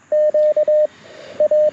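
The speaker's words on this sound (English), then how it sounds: "Nothing like some Morse code" Morse code sidetone from a Mountain Topper MTR4B V2 QRP radio sending CW, a steady pure beep keyed in short dits and longer dahs with brief gaps, loud and clear with no talk.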